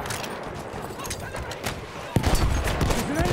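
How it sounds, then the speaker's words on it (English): Battlefield 1 combat with enemy machine gun fire amid a dense wash of gunshots and explosions, steady and loud, with a sharp blast midway and voices shouting underneath. "There's an enemy machine gun!"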